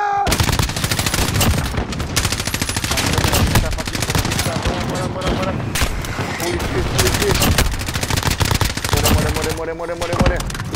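Rapid automatic gunfire in the Warzone video game on the Verdansk map, loud, dense bursts of shots running almost continuously throughout, with occasional shouting voices over the firing.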